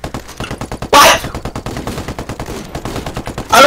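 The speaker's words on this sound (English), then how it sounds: "I don't know where those bullets are coming from!" Rapid automatic gunfire in Ghost Recon Wildlands, loud and close, with long rattling bursts of evenly spaced shots and two heavier blasts cutting through.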